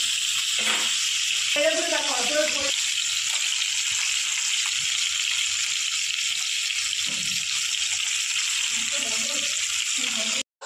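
Fali fish pieces fry in hot oil with a steady, loud sizzle that holds for the whole stretch, while a voice briefly murmurs in the background now and then.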